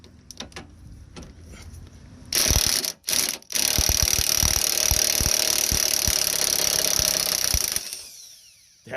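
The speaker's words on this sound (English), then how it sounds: "Use an impact wrench only because spinning with a ratchet is going to be a bitch" An impact wrench hammers at a bolt on a Toyota RAV4 front CV axle, with a few short clicks, then loud, sustained rattling bursts with brief breaks, close up in a garage.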